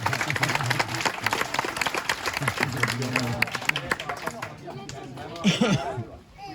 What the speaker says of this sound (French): On l'applaudit d'ailleurs, très fort.